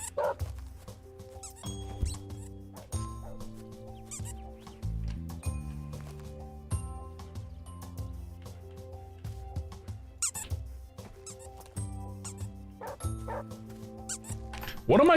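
A dog yips, squeaks and whimpers in short scattered bursts over a steady musical backdrop, with a voice talking at times.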